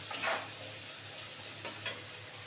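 Onion browns in oil in a pan for ghugni, a soft, low, steady frying hiss with a couple of brief brighter spatters.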